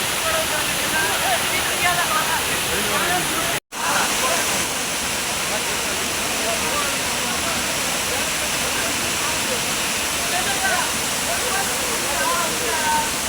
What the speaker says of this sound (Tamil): அருவி தெரியுது வாங்க